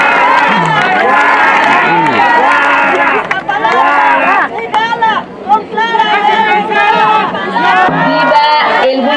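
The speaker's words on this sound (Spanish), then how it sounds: "Recibámosla con un fuerte aplauso." A crowd at a political campaign rally in Iztapalapa cheers and shouts loudly, with high excited voices and whistles forming a dense, continuous roar that swells and dips briefly near the middle.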